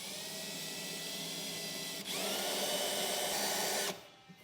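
A power drill with a small bit bores pilot holes in a 2015 Ram truck bed for above-bed base rails, giving a continuous whirring drone that rises in pitch midway, then winds down near the end.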